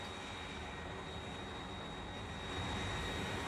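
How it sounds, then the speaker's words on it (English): Steady airplane engine roar from a video game, a continuous broad drone that swells slightly louder toward the end, heard alone without talk. "using airplanes to get around"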